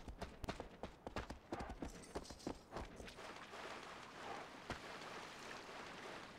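Horse hooves clip-clopping on ground in the video game Shadow of the Colossus, a quick run of sharp close hoofbeats at first that fades into a rushing wash of ambient sound.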